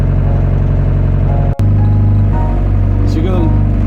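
A yellow excavator's diesel engine drones steadily at a low idle, broken by one sharp clunk partway through, after which the rumble settles into a heavier, steadier hum.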